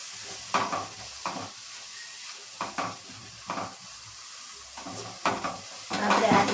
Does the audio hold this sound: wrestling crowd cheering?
no